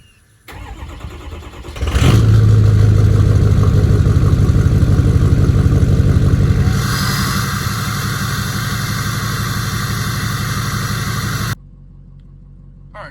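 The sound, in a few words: cold start of 2006 Ford F-250 6.0 Powerstroke diesel engine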